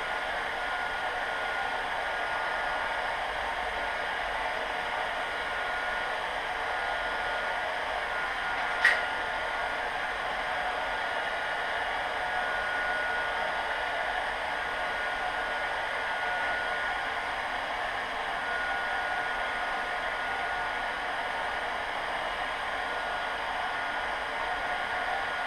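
A heat gun blows with a steady, even hiss while warming a plastic fender for a CFMOTO Zforce 800 side-by-side, running continuously up close with one brief click partway through and no talking.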